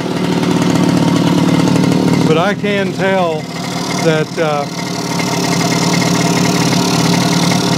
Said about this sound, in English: But see, it's idling okay now